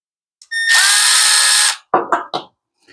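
A power drill whirs loudly for about a second, followed by a few short clunks and knocks as the screw seats.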